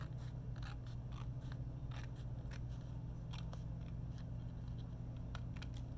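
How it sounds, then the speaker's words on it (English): Scissors snip through paper while trimming the edge of an autumn junk-journal tag, a quick run of crisp, close cuts over a steady low hum. "I'm going to cut this bottom edge off here."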